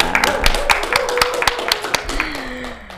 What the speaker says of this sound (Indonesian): boleh tepuk tangan dulu dong guys buat Kak Halwa.